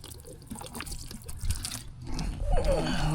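Filter cleaner liquid pours onto a foam air filter, soaking it with a close, gurgling trickle and splash that grows louder toward the end.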